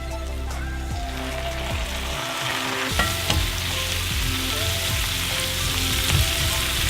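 Onions for liver and onions sizzle steadily in a hot pan after a splash of Blanton's bourbon goes in. The frying is loud and continuous, with occasional stirring scrapes and pops.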